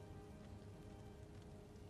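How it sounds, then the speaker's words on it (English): Steady rain pours across a Total War: Rome II battlefield, a dense, continuous hiss of drops on the ground with a low rumble beneath, loud and unbroken throughout without voices. "of course we're fighting in the rain."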